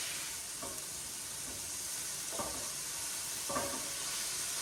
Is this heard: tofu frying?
yes